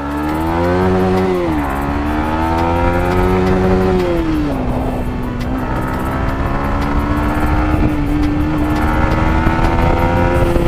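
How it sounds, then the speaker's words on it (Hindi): A motorcycle engine revs and accelerates up close, its pitch climbing and shifting through gears with a loud, steady roar. "भाई पिकअप तो एकदम तगड़ा है ये बाइक में"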